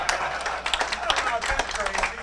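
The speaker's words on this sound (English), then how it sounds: "you can give a round of applause to our president" Scattered, uneven hand claps from an amateur radio club audience, applauding the club president, with individual sharp claps rather than a dense roar and voices talking over them.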